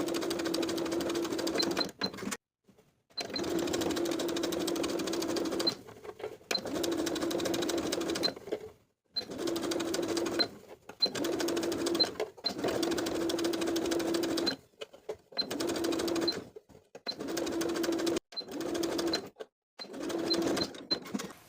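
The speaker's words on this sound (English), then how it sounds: "we're going to sew the seam allowance to the facing from the bottom of the center front to as far as we can get to the shoulder seam" A sewing machine runs in repeated bursts of a few seconds each, separated by short pauses, as it stitches a vest's seam allowance to the facing from center front toward the shoulder; the whirring is close and steady.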